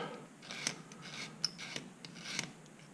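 A hard steel blade scrapes carefully across a part during final assembly of an RGV250 motorcycle, giving a handful of short, crisp scraping strokes with quiet pauses between them.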